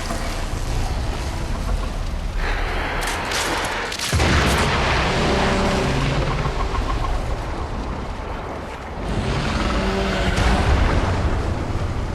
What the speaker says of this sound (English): There should be useful detritus falling from the explosion.